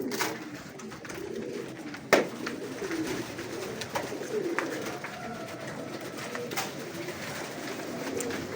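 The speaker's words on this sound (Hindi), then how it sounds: "ये देखें, ये सारे बर्ड्स अब खाना शुरू हो गए।" Pigeons coo softly while feeding on grain from a two-hole feeder box, their low calls steady and close amid the light scuffling and rustling of birds eating.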